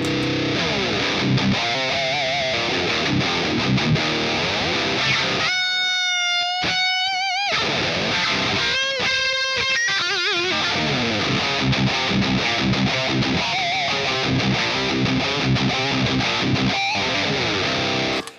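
Electric guitar on the bridge pickup through a Xotic BB Preamp overdrive plays a riff with a gritty, crunchy tone, chords and single notes ringing out continuously with a brief sustained bend midway.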